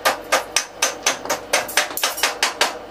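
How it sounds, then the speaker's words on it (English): A hammer taps dross off the bottom edge of plasma-cut steel with about a dozen sharp, evenly spaced metallic knocks. The taps are close and loud, with no talking. "It will just tap off very easily with a hammer"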